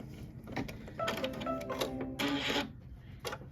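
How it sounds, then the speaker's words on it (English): An embroidery machine stitches metallic silver thread for a Kimberbell Main Street Celebration bench pillow, giving quiet rapid mechanical whirring and clicking in short uneven runs. "now it's going to stitch the body of the rocket"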